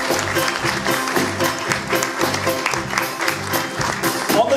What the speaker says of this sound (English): give a massive warm round of applause to Aaron.